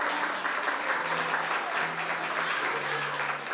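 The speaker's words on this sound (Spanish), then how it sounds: "Los aplausos para despedir a Gonzalo" Audience applause sending off Gonzalo at a sixth-grade promotion party at Colegio La Merced: steady dense clapping throughout, with a faint sustained tone running underneath.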